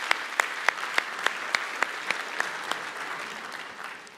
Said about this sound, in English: A ripple of laughter through the room and a round of applause.